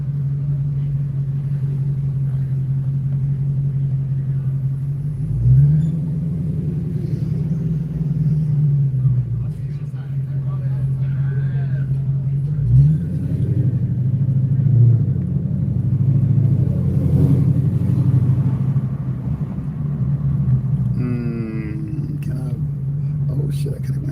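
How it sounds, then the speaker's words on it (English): A car creeps through stop-and-go traffic with a low steady engine drone, rising in two brief surges as it pulls forward, while someone talks over it. "let me get out of this stop and go traffic"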